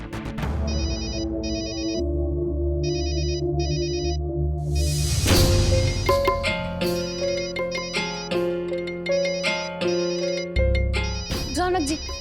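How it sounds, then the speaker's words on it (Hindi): A phone ringtone chimes in short repeating bursts in an Indian TV serial scene, then continues over background music and a louder musical passage. "माँ का फोन आ रहा है"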